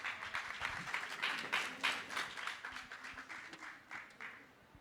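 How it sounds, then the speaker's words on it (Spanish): Faint applause from an audience welcoming speakers at a book and culture festival event in a botanical garden, scattered claps continuing for a few seconds, slightly distant. "Recibámoslos con un aplauso."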